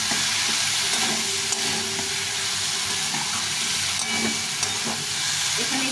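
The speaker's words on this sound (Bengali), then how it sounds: "এখন এর মধ্যে এই ভাজা এঁচোড়টা দিয়ে দিব, দিয়ে সম্পূর্ণভাবে এটাকে কষিয়ে নেব" Fried jackfruit being stir-fried with potato and spices in a pan, giving a dense, constant sizzle with occasional scrapes of a spatula, close and loud throughout.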